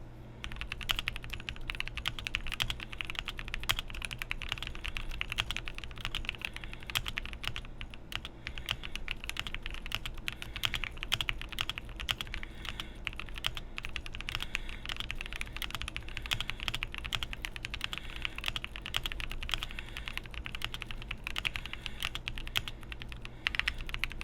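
A custom-built mechanical keyboard with cheap keycaps is typed on at a steady, fast pace, giving a long run of close, crisp, slightly hollow clacks alone in a quiet room.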